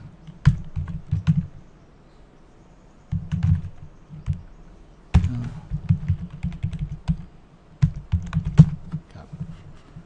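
Keys clatter on a keyboard as a message is typed, in bursts of quick taps separated by short pauses, close and fairly loud.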